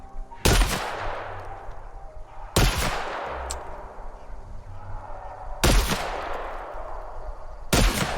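Shotgun blasts in The Outer Worlds video game: four heavy, booming shots spaced a couple of seconds apart, each with a long rumbling tail, over game ambience.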